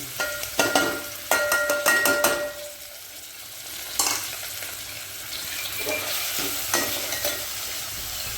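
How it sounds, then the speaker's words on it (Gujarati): Dry onion dropped into a pan of hot garlic tempering for palak paneer: a metal spoon clatters and stirs for the first few seconds, then a steady, close sizzle of frying with occasional scrapes. "હવે નાખશું આપણે ડુંગળી સૂકી"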